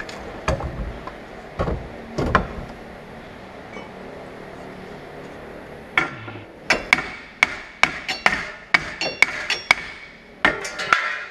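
Sharp metallic hammer taps ring out on a car wheel hub during a five-lug swap on a Nissan S13, first a few scattered strikes, then a quick series of about a dozen close, ringing hits after a pause.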